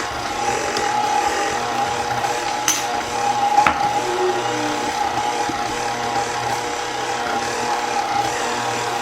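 A stand mixer kneads Filipino Spanish bread dough with a little oil added, giving a steady mechanical whir with occasional knocks and thumps, close and continuous without talk.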